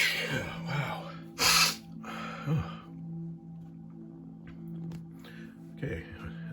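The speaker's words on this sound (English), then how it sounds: "Okay, is the sneezing over?" A couple of sharp, loud sneezes burst out close to the microphone over a steady low hum, followed by quieter breathing and a brief exclamation.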